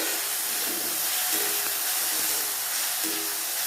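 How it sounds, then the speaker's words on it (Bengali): Onion sizzling lightly in a pan with ginger-garlic paste, cooking down for a vegetable momo filling; a steady, close hiss runs through the whole stretch with faint clinks, and no talking. "পেঁয়াজটা অল্প একটু হালকা করে ভাজা করে নিতে হবে।"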